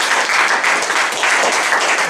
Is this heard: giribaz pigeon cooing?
no